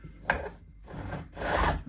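A file rasps against the fret ends of a Tele-style guitar being refretted, with a few short, close scraping strokes, each a rough hiss, during bevelling.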